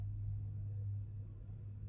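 A steady low rumble of road traffic, distant and continuous, with no distinct passing vehicles standing out.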